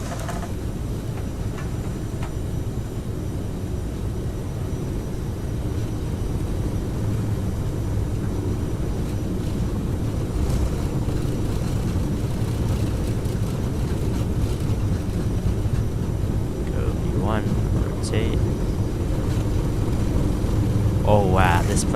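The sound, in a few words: CRJ jet airliner taking off, Microsoft Flight Simulator video game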